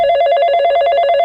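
A telephone rings on an outgoing call, a bright continuous ringing tone with rapid warbling pulses, close and loud, with no voices over it.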